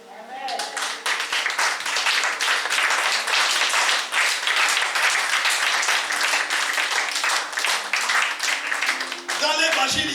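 Church congregation breaks into sustained applause, dense loud clapping filling nearly the whole stretch with cheering voices mixed in, then dropping off near the end.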